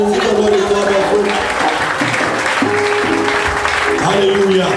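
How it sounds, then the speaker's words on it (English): A church congregation at a Sunday Easter convention service in Lomé, Togo claps together in sustained, dense applause, loud and close, with a voice speaking over it. "Give the Lord a clap offering."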